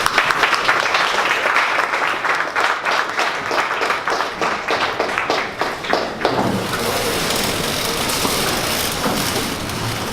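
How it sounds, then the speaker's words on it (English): An audience at a 1 Million Cups Dallas pitch event gives a presenter a sustained round of applause. The clapping is dense and close at first, then thins into a softer, more even patter toward the end. "Can you guys please stand and give Santosh a round of applause?"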